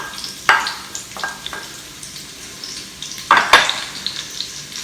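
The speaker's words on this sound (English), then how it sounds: "I'm going to add my onions and my garlic, and we're going to let these saute for about 5 minutes until they're translucent and soft" Onions and garlic sauteing in an Instant Pot, a low sizzle broken by several scraping stirs and clacks of a utensil against the pot, two clusters of louder strokes with quieter stretches between.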